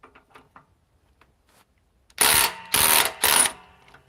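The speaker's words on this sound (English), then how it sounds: "DeWalt XR DCF 870 hydraulic" A DeWalt XR DCF870 hydraulic impact driver runs in three loud, close bursts of whirring impacts, separated by short pauses, after a few faint clicks.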